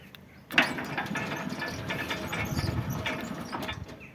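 A CAME automatic gate motor whirs into motion after a sharp click, running steadily with a mechanical hum and faint ratcheting for several seconds, close by, after its control board was repaired.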